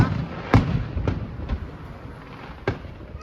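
New Year fireworks over Tauranga, New Zealand pop and boom at a distance, with several sharp bursts spaced irregularly over a steady rumbling wash of more distant explosions.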